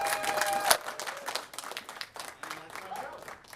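An audience claps for a magician at a live performance. The dense, crackling applause is close and rises and falls over a few seconds, mixed with voices.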